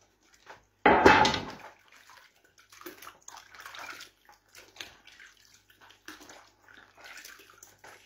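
A cooking pot gets washed up in water, starting with one loud splash as it goes in, followed by quiet, intermittent sloshing and scrubbing.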